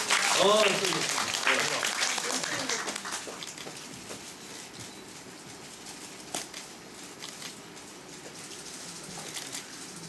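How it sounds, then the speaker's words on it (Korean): An audience claps at a Korean musical theatre event during a seat-number prize draw. A burst of voices and applause fades into lighter, scattered clapping, with talking over it. "박수 부탁드리겠습니다"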